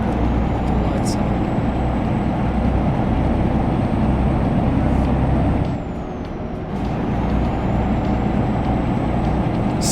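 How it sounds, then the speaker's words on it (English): Heavy truck engine in a trucking video game, a loud continuous low rumble with a faint high whine, dipping briefly midway before resuming, with speech over it. "now that the truck is a bit louder"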